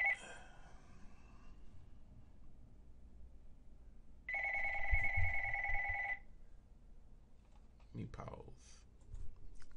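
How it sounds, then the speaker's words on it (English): A phone rings with a single steady electronic ring lasting about two seconds, fairly close and clear, with soft keyboard typing and light room noise around it. "Look, my phone ringing."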